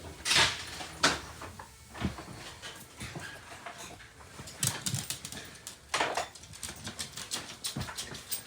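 A puppy moves about inside a truck camper, with soft panting, whimpers and scrabbling, plus bumps and cabinet-like knocks, all fairly quiet and close, with no talking.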